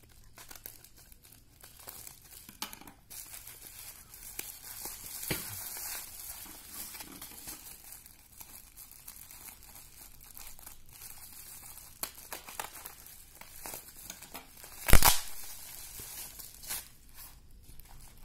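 Plastic wrapping crinkles softly and steadily as a package holding a weighing scale is unboxed. A sharp tearing sound stands out near the end, and no one speaks.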